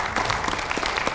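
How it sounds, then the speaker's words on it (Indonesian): An audience at a university website launch event claps for a speaker in a dense, even burst of applause that fills the whole short moment. "tepuk tangan untuk Pak Firman."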